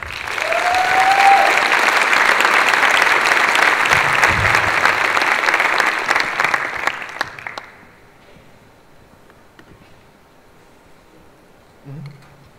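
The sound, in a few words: applause for a speaker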